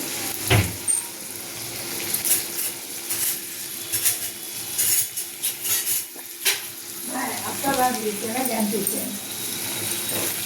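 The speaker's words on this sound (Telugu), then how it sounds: "ఇప్పుడు మనము ఇది ఇలా తిప్పుకొని ఉల్లిపాయలు బాగా ఫ్రై అయిపోయిన తర్వాత, బాగా ఫ్రై అవ్వాలి" Onions sizzling and frying in oil in a pan, a steady crackling hiss with occasional stirring scrapes, while someone talks over it.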